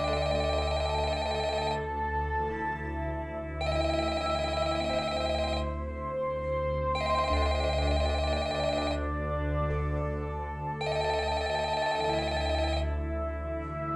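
A telephone rings four times in even bursts with pauses between in the office of Freddy Fazbear's Pizza from Five Nights at Freddy's, loud and close, over a low steady hum.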